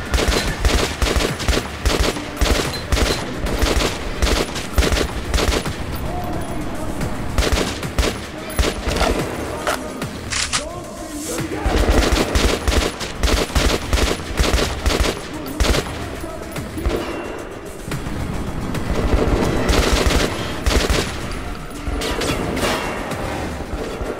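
Gunfire rattles in the Metro 2033 Redux video game, dense loud bursts of automatic shots and thuds repeating nearly nonstop, with short pauses between volleys.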